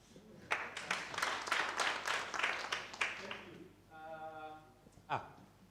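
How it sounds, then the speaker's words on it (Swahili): A meeting audience of a housing cooperative gives a burst of applause that lasts about three seconds, then fades. A voice speaks as the clapping dies away. "Simpigie makofi tena."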